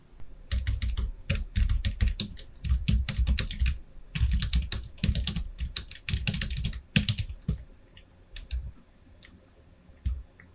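Rapid typing on a computer keyboard, bursts of crisp key clicks with short pauses between them, close up and clear.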